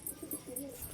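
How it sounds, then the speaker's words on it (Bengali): Pigeons in a coop give soft, low cooing calls, several short rounded coos in quick succession, faint and close by with no talk. "আর আছে খোপে পায়রা?"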